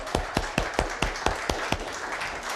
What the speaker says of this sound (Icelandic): Þannig að ég ætla að gefa ykkur aftur gott klapp.